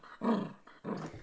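A dog growls in two rough, rumbling bursts separated by a short pause, close and fairly loud, with no talking.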